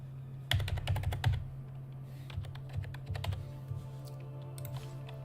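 Keys clatter on a PC keyboard during a mobile-fighting game session, bursts of quick taps and pauses over a steady low electrical hum.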